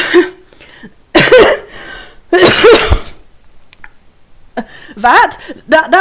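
Several harsh coughs come in short bursts, loud and close, separated by brief pauses, with a little breathing between them.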